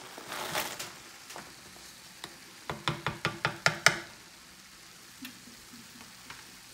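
Onions and green peppers sizzle in a pan for a goulash, with a sputtering hiss and a quick run of sharp knocks from a utensil against the pan partway through.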